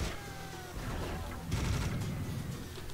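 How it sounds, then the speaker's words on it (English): Rockets from a large enemy in the Serious Sam: The First Encounter shooter pelt the player in an oasis level, a dense, loud barrage of blasts and booms that swells after a brief lull, with no talking. "Big guy! Shooting your rockets at me!"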